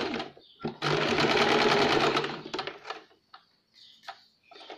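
A domestic sewing machine runs in one loud sustained burst, stitching a folded corner of a katori blouse lining, then stops, leaving soft handling clicks and brief noises.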